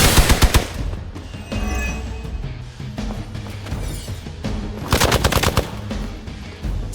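Rapid bursts of automatic gunfire crackle in the video game Marvel's Midnight Suns, with a loud rattling volley at the start and another near the end, separated by quieter mechanical clatter.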